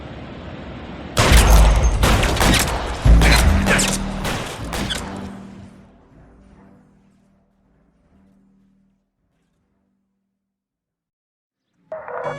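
Gunfire rings out in the video game L.A. Noire: a rapid burst of loud shots over a few seconds that fades into a lingering rumble, then silence before another sound starts at the end.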